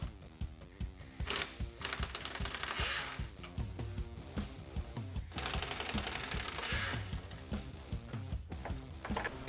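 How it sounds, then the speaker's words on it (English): Ratchet loosening the upper dash bolts on a Jeep TJ, a quick run of close clicking ratchet strokes in uneven bursts, fairly quiet, with no one talking. "start by removing the two upper dash bolts."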